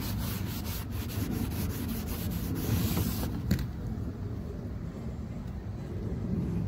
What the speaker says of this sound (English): Wipe it off.